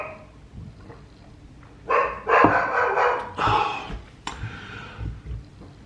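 Indoors, a dog barks several times in a burst of loud, close woofs mixed with yips, set against a quieter room background.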